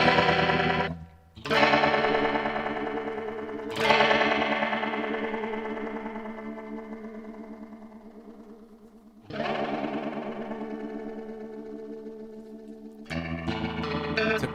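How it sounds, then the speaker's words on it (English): Rotary effect from a BOSS ME-80 guitar multi-effects pedal on electric guitar: several sustained, swirling chords struck one after another, each ringing out and slowly fading with a warbling, pulsing shimmer, played alone. "And then you have rotary, which is absolute classic."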